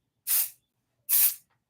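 A perfume spray bottle gives two short, sharp hissing bursts about a second apart, close and clear, with silence between and no talk.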